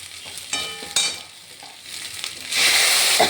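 Bottle gourd pieces go into hot spices and ginger frying in a pan, with sharp clatters and stirring scrapes followed by a loud, steady sizzle surging up near the end, no voices.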